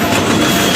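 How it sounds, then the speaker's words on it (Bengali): A train passes close by on the railway with a loud, continuous rumble and rolling wheel noise, heard alone. "এখন কবতারপুর ট্রেন আসছে, আমরা রাস্তায় আটকাইছিলাম।"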